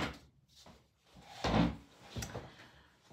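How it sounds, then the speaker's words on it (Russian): A door in a home swings and shuts with a wooden knock and rattle, close and fairly loud, with some faint handling noise before and after. "Ой, сейчас дверь закрою"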